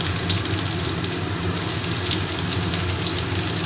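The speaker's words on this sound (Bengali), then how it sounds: "এবার আমি পেঁয়াজটাকে প্রথমে ভেজে নেব প্রথমে পেঁয়াজটাকে দিয়ে দিলাম" Onions fry in hot oil in a wok, a steady, dense, close sizzle and crackle with no pauses and no talking.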